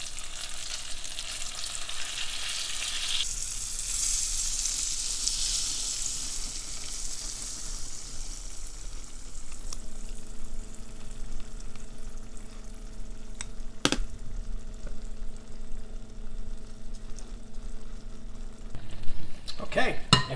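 Cornbread batter poured into a hot skillet over translucent caramelized sweet onions, a steady close sizzle and frying hiss that settles into a softer crackle, with a person talking over it.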